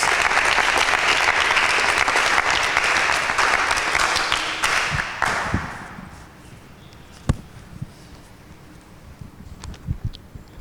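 Loud applause from a studio audience at a Bible quiz show, a dense burst of clapping for about six seconds that quickly fades to a few scattered claps and quiet room noise.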